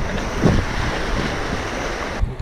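Whitewater rapids on the Deschutes River rush and splash in a steady, loud wash of churning water against a raft, heavy with broadband noise and wind buffeting, with no voices heard.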